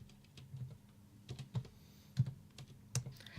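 A producer types on a computer keyboard during a competitive game broadcast: faint, irregular keystrokes clatter in scattered bursts with no talking.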